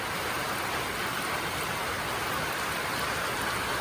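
Steady rain pours down in a dense, even hiss that holds without pause, with no voices over it.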